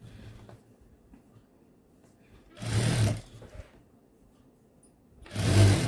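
A sewing machine stitches a hemming strip onto a blouse, running in two bursts of a few seconds each. The stitching is loud and close, with a quiet pause between the bursts and no talking.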